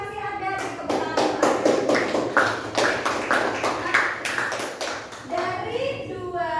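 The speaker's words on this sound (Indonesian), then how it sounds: "Tepuk tangan." Children in a classroom clap their hands together in a fast, uneven patter of sharp claps for about five seconds, with voices talking over the clapping and continuing as it fades.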